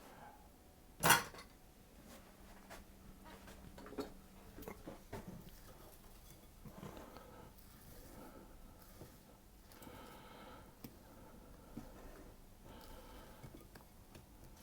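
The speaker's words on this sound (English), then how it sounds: "I'm going to just wipe that, scrape down the bowl" Quiet scraping and light clinks of a spatula or spoon against a mixing bowl holding vanilla and plum cake batter, soft and close, with one sharp knock early and gentle intermittent scrapes after.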